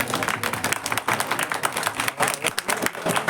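An audience at a Gujarati Ramamandal folk performance applauds loudly, a dense stretch of rapid clapping that rises and dips in waves without pause.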